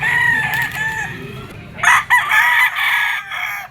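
A bull stag gamecock rooster crows loudly and close by, a long drawn-out call followed by a second burst of crowing, with other fowl faintly audible behind.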